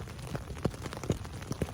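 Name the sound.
rain falling on the Appalachian Trail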